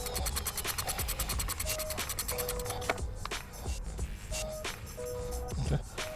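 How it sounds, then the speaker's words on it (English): Nut being removed from the lower control arm of a 2006 Toyota Camry 3.3L, with a rapid ratcheting burst first, then scattered scraping and clicking of metal tools, close and moderately loud. "And just take this nut off."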